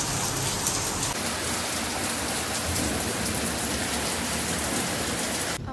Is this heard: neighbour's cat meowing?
no